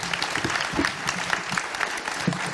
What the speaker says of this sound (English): give our panelists a very, very, very warm round of applause